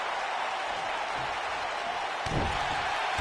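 Stomp impact in a wrestling video game, a single heavy thud landing late over a steady hiss of crowd noise.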